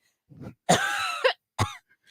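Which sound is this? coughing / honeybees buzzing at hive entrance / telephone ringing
coughing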